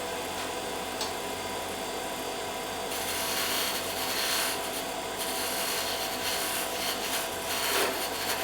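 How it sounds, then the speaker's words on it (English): A round nose scraper cuts wood on a spinning lathe while turning a bat: a continuous dense rasping and scraping hiss over a steady motor hum, close and loud, with no talk. "That round nose scraper is like the perfect shape for"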